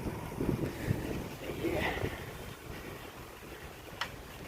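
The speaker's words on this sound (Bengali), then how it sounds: "হাওয়া চলছে হালকা হালকা, ঠান্ডা ঠান্ডা" A light, cool wind blows outdoors along a rain-soaked, waterlogged road, buffeting the microphone in a low, rumbling rush that is strongest early on, then eases to a softer steady gust with one brief knock.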